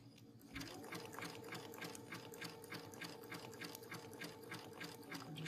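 A sewing machine stitches a reverse applique piece with a fast, even run of needle strokes that starts abruptly and carries on steadily up close.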